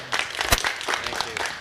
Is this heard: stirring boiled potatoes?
no